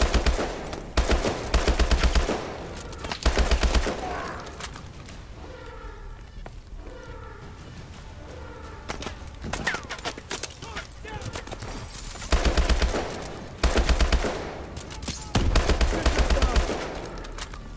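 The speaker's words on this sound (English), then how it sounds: "I'm just gonna shoot everything I see." Call of Duty: Advanced Warfare gunfire on the Bio Lab map, repeated bursts of automatic fire with heavy low thumps, broken by quieter stretches of game sound and a voice talking.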